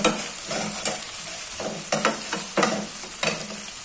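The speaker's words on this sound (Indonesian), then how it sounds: "Kita masukkan juga kemiri dan ebinya. Menggoreng ini kita gunakan api yang kecil ya teman-teman," Candlenut and dried shrimp fry in a pan over low heat for tomato sambal. Steady soft sizzling sits under repeated spatula scrapes roughly every half second, close and with no talk.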